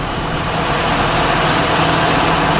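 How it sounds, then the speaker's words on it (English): A couple of electric hybrid buses drive past one after another, a loud, close, steady engine and road rumble with a faint hiss of air brakes. "Got a couple of electric hybrid buses here."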